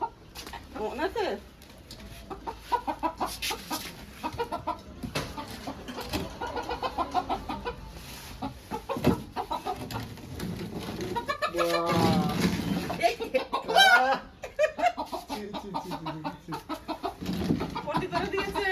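Desi chickens cluck and squawk repeatedly up close, some calls loud and agitated, mixed with people talking and handling noise throughout.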